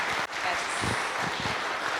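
Audience applause at a connectivity forum panel event, a steady wash of clapping sustained through the whole moment, fairly loud and continuous.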